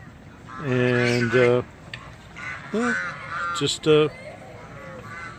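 Geese on a small island at a koi pond in the Lembang Floating Market, Indonesia, give loud, close, nasal honks in a few bursts, with a person speaking briefly between them.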